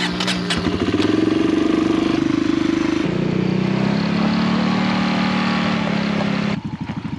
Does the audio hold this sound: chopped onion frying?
no